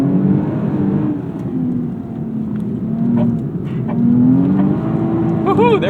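A 2007 Lexus IS 350 V6 engine hums and revs steadily from inside the car, pitch rising and falling through the clip, with a brief flurry of higher whine near the end.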